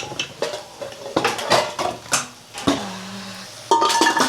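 A metal pressure cooker pot used for goat trotter bone broth is handled and set down in a home kitchen, giving several sharp clanks and scrapes of metal against metal, close and fairly loud, with no talking.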